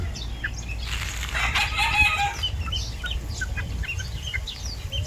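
Boston Roundhead chicks, pure F1 offspring, kept in a brooder during hot weather: a burst of clucking, chirping and wing flapping near the middle, with steady rustling and low background noise throughout.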